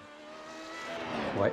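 Formula Renault race car engines whine in an esport racing game at Suzuka, rising in pitch as a car closes in and sweeps past near the end. A commentator talks over it.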